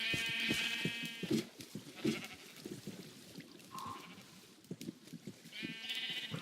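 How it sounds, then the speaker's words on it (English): Sheep in Minecraft bleat repeatedly in a blocky farm village, several short nasal calls overlapping at close range with a steady game backdrop between them. "This is full of sheep."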